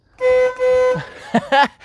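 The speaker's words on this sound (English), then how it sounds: "let's honk the horn." A classic Mini Cooper's horn honks twice in long, loud blasts, followed by a few shorter toots close by.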